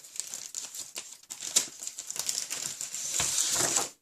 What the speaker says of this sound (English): I got to cut some card stock for the inside as well while I've got my trimmer out.